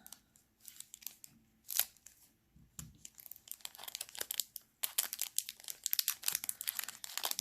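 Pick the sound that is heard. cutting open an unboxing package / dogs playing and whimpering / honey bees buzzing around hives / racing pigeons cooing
cutting open an unboxing package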